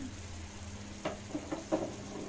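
Whole garam masala of two cardamom pods, four or five cloves and two or three cinnamon pieces sizzles in hot oil for a Bengali chicken curry, a faint steady crackle with a few soft stirring clatters near the end.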